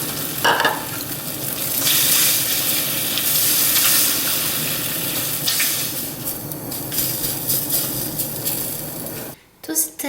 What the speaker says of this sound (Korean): 시금치 볶았던 팬에 다시 불을 켜고 기름 두르고 풀어놓은 계란물 붓고 스크램블을 만들어 줄 거예요